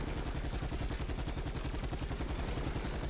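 Rapid, even gunfire in Black Ops 4 Zombies, aimed at a target, a steady stream of close shots running without a break and no talk over it.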